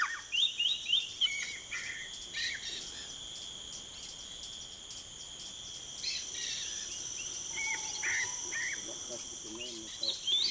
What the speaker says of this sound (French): Le Verdun barbe bleue est en forme. Il entame son chant d'amour.